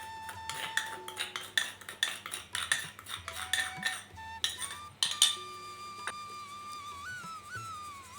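A metal spoon clinks and scrapes repeatedly against a tea strainer while cocoa powder and powdered sugar are sifted through it, the tapping close and irregular with small rings of metal.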